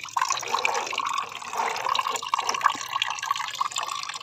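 Water draining away and dripping down outside a home, carrying used vegetable-washing water mixed with aloe vera, a steady close trickle with scattered drips and no talk.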